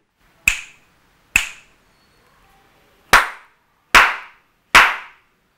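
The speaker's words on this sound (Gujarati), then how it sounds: "હું અહીંયાથી અમુક તાળીના અવાજ અને અમુક ચપટીના અવાજ કરીશ" Five sharp, isolated snaps and claps, close and crisp, separated by short silent gaps, with no voice.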